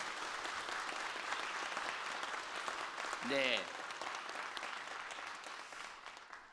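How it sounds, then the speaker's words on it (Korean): Congregation in a church applauding middle and high school youth during a New Year prayer service, steady broadband clapping throughout with a short voice exclamation in the middle. "우리 박수합시다"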